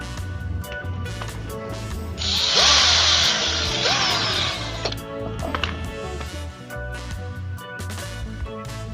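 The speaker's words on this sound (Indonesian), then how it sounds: "sekalian kita bor sampai tembus ya, sampai tembus" A power drill bores all the way through while fixing a drill whose screws won't tighten; a loud grinding burst of a few seconds rises over a steady background hum.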